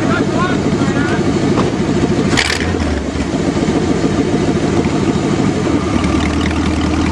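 The engine of a Pontiac-Chevrolet hybrid car runs loud and rough outdoors on a farm, a continuous throbbing rumble with a brief clatter partway through.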